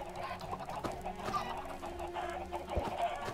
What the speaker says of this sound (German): Weil so viele Hühner gerade gackern